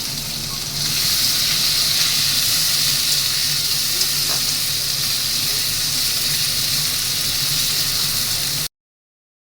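Sliced onions fry in a pan for an okra dish with mustard, giving a steady, loud sizzle throughout with a constant bright hiss and no voice.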